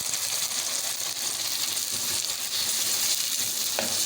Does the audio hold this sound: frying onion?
yes